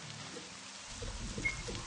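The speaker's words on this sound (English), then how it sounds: "It starts raining before I go outside." Rain begins falling in an RPG Maker game, a soft, even hiss that swells about halfway through and then continues steadily at a moderate level, with no voices.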